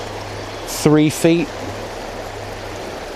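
A swollen river flows strongly, a steady broadband rush continuing throughout while someone speaks briefly over it.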